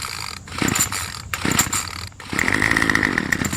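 A Remington RM2510 string trimmer on choke, pulled twice in short bursts before its small engine catches and runs with a steady, buzzing rasp close by.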